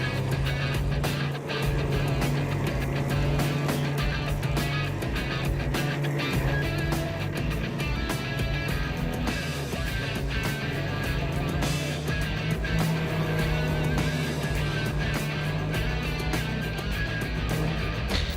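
A 2018 BRP Ski-Doo Renegade XRS trail snowmobile runs with a steady, dense engine drone and a constant low hum, continuous and fairly loud throughout with no clear pauses.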